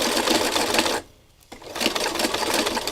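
A sewing machine runs a dense zigzag stitch over trim, a quick rattling buzz that stops briefly for about half a second before resuming at the same pace.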